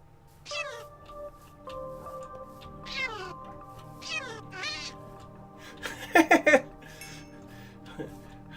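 Several cat meows from the Minecraft SevTech modpack, rising and falling in pitch and repeated at intervals over a steady low game hum, with a burst of sharp clattering toward the end.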